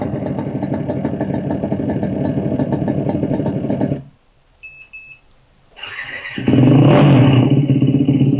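An electric scooter sound booster plays a simulated engine, a loud rough motorcycle-like idle that cuts out for about two seconds, with a brief electronic beep, then returns even louder and revs up.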